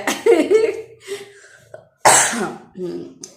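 Two bursts of harsh, throaty coughing close to the mic, a short fit at the start and another after a brief pause, with quieter throat sounds between.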